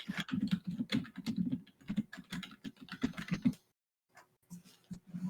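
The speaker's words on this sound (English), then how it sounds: "I just typed in mounting." Typing on a computer keyboard during a tabletop game session makes a fast, close patter of key clicks, then a brief pause, then a few more scattered keystrokes.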